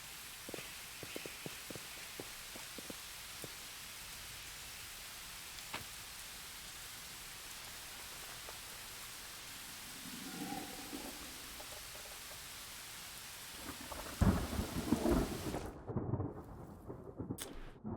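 Steady rain hiss falls in the fantasy RPG Pathfinder: Wrath of the Righteous, a soft, even wash with faint low rumbles, rising into a brief louder burst of activity near the end before cutting out.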